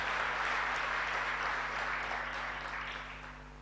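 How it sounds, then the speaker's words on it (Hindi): Sustained applause from an audience welcoming online guests at a Hindi-language gathering, a dense steady wash of clapping that slowly fades toward the end, with a low mains hum beneath. "एक बार जोरदार तालियां बजाकर उनका सबका स्वागत कर दें।"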